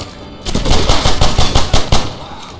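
Carbine fire in Medal of Honor Airborne: a quick, loud run of about a dozen sharp shots in steady rhythm, close up, starting after a short quiet moment and stopping just before the end.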